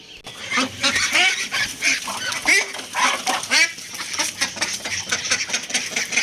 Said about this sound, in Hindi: अब मैं देखता हूँ हमारी बतखें ठीक होगी है कि नहीं होगी